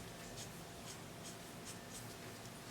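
Pen or pencil marking a pattern line on paper while drafting a women's trouser pattern, soft faint scratchy strokes in a few short bursts, quiet and close.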